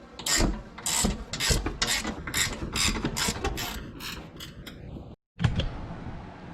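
A 21mm ratcheting wrench turns a bolt while a lowering kit is fitted to a Chevrolet Trailblazer SS. The close, loud ratchet clicks come in a steady series of repeated strokes, followed by a pause and one final stroke.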